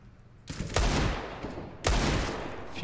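Two loud bursts of rapid gunfire in a CS:GO match on the Mirage map, the first starting about half a second in and the second near the two-second mark, each followed by a decaying rattle.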